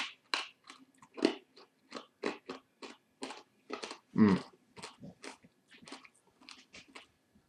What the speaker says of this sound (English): I'm just going to chew it now to see if it changes at all